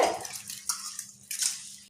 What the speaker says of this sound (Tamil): இதை வந்து நல்லா தண்ணி விட்டு ஒரு ரெண்டு மூணு டைம் நல்லா வாஷ் பண்ணி எடுத்துகிட்டு வந்துடலாங்க